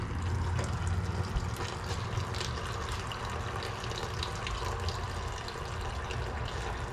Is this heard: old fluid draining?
yes